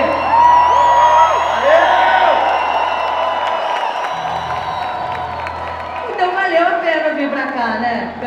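A crowd at a metal festival shouts and cheers loudly near a stage, with whoops and scattered applause. A voice talks and calls over the crowd noise, which swells again toward the end.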